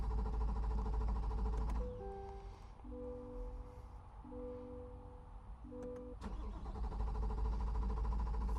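A Corvette C8 engine cranks in clear flood mode without firing. A loud, steady mechanical rumble drops away partway through while a few short electronic chime tones sound, then the rumble returns near the end.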